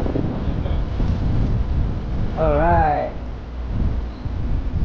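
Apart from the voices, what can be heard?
strong wind blowing on microphone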